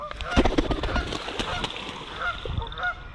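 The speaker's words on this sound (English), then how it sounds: "Oh, hey, geese." Geese honking close by, a flurry of loud overlapping honks that keeps going with scattered calls and flapping-like rustle, no talk.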